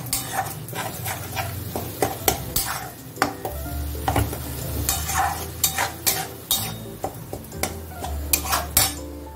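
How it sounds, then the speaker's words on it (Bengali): Curry masala with yogurt being sautéed in a pan, a continuous sizzle broken by frequent sharp scrapes and clinks of a metal spoon stirring against the pan, close and busy with no talking. "এবার আমি খালি কষতে থাকবো"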